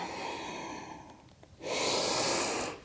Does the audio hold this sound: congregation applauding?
no